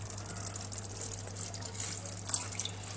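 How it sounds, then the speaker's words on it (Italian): Water poured into crushed tomatoes in a cooking pot for coda alla vaccinara, a soft, continuous trickle and splash under a low steady hum. "Adesso schiaccio il pomodoro e aggiungo l'acqua."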